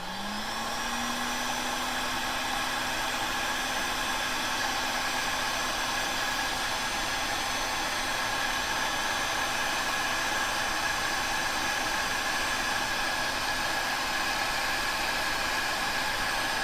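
Heat gun blowing steadily on a heat-shrink self-solder butt splice connector, a continuous close, even roar with a faint tonal whine that holds unchanged throughout, no talking.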